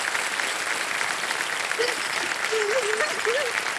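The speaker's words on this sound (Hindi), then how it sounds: "तालियां बज जाए" Studio audience applauding on the set of the Hindi quiz show Kaun Banega Crorepati season 17 as a contestant is welcomed, a steady dense wash of clapping throughout, with a voice briefly rising over it.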